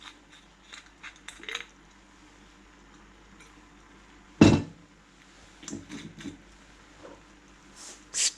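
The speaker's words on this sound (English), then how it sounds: "Stir that round." Pulses being stirred with a dash of vinegar in a pot, heard as scattered light clinks and scrapes of a utensil against the pot, with one sharper knock midway and soft taps after.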